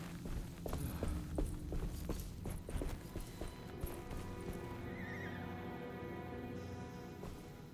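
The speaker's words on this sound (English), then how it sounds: "Heard some horses." Horses whinny and neigh in the video game Alone in the Dark, with clip-clopping hooves and a shrill whinny rising over a steady game ambience, fairly close and without talk.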